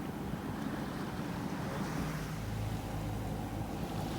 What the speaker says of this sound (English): It's a little bit of waves and wind, but nothing bad.